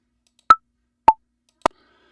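Three sharp, isolated metronome clicks from BandLab spaced about half a second apart, crisp and close, with silence between them.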